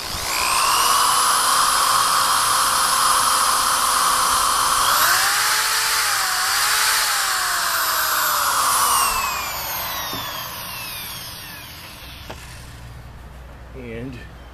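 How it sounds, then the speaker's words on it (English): A high-pitched power drill whines steadily as it bores into wood, its pitch dipping and wavering as it bites in, then winds down, leaving a few small knocks. "I'm going to basically drill into here first to make sure the wood doesn't split."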